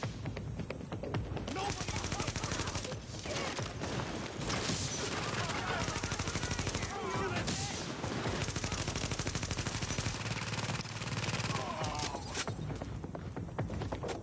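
Sustained automatic gunfire from a Tom Clancy's The Division firefight, rapid dense bursts rattling almost without pause for the whole stretch, loud and close, with voices intermittently over the shooting.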